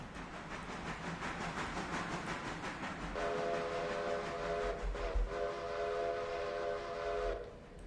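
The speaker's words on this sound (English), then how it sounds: "We're gonna get some totally senseless whistle blowing in here just to do it" Train whistle sounding in the Railroader game, a steady multi-tone horn chord holding loud for several seconds over the continuous rumble and clatter of a train with a double dump hopper.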